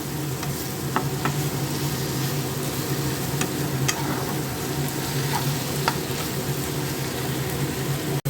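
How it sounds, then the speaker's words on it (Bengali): Spice paste sautéing in oil in a pan for katla fish curry, a close, steady dense sizzle with occasional soft stirring scrapes and clicks, no voices. "মশলাটা একটু ভাজা ভাজা হবে সাঁতলে"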